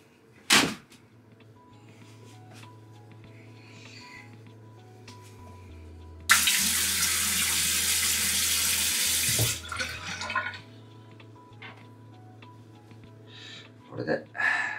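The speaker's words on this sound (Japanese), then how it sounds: "顔を洗いに行ってきます。" A bathroom tap gushes steadily for about three seconds during a morning face wash, framed by scattered clunks and knocks of handling before and after.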